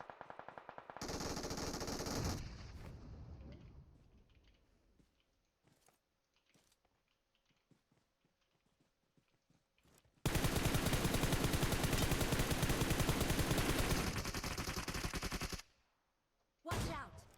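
Automatic gunfire in PUBG Mobile: two long, loud bursts of rapid shots separated by a quieter stretch of scattered clicks, with a short final burst at the end.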